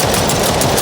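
A weapon firing in an Unreal Engine 4 first-person shooter, a brief loud burst of rapid, rattling shots packed tightly together.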